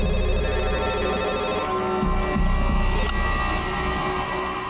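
A phone ringtone plays steadily for several seconds, a repeating electronic melody over a low hum, fairly loud and close.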